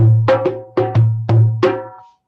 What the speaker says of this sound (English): this doumbek is called the ergonomic doumbek